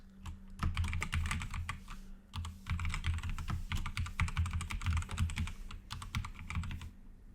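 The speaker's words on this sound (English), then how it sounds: "Type in your full name, email address," Quick, irregular clatter of keys on a computer keyboard as a name is typed in, close and fairly quiet, with short pauses between bursts.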